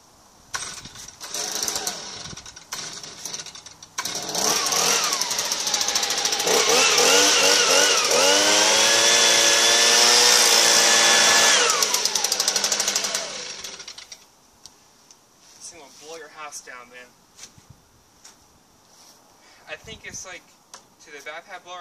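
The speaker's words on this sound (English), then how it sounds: "so I'll do my blower." An older-style handheld BR-400 leaf blower revs up and runs loud and steady for several seconds, then winds down, with someone talking before and after.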